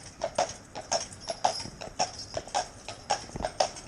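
Steady clip-clop of a Shire horse's hooves on a hard surface, a regular trotting rhythm, moderately close and fairly quiet, with no talking.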